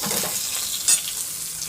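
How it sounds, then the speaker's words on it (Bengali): Beans and red capsicum sizzle loudly in a hot wok for veg fried rice, a close continuous frying hiss with a brief stirring scrape near the middle. "বাকি যে সবজিগুলো রয়েছে সেই সবজিগুলোকেও আমি কড়াইয়ের মধ্যে দিয়ে দিচ্ছি"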